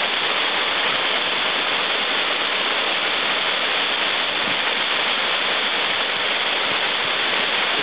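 Steady, loud rushing water of a waterfall in Australia, a constant broadband roar with no pauses.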